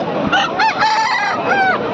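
Several chickens crow and cluck loudly and close by at a busy poultry market, overlapping calls filling the whole short stretch.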